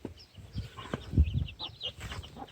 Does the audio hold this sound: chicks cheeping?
yes